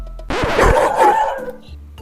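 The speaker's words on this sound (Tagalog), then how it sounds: "Napaitlag ako sa sobrang gulat nang biglang nagtahulan ng mga aso sa labas." Dogs barking outside in a dramatized story scene, a sudden loud bark followed by a drawn-out whining howl, close and alone.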